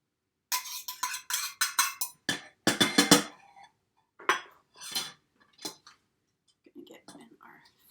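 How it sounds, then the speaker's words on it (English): A utensil clinks and scrapes against a bowl in quick uneven strokes while pierogi filling ingredients are stirred into mashed potatoes, close and dry, tapering to softer taps. "So we're going to start mixing the stuff up into our potatoes."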